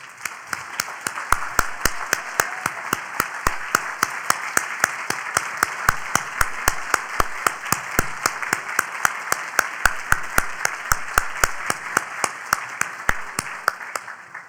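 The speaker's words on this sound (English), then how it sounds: "please stand up and let's give them a very loud round of applause" A standing audience at a medical foundation session gives a loud round of applause, sustained dense clapping with sharp individual claps standing out, steady throughout and close-sounding.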